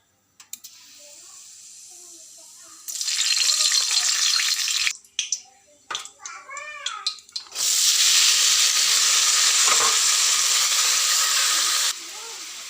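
Nigella seeds and bay leaves hit hot oil in a home kitchen, giving two loud bursts of steady sizzling hiss separated by a stretch of sharp crackles and pops.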